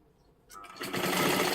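A sewing machine stitches a puffed sleeve, starting quiet and building into a steady, loud whirring run that continues to the end.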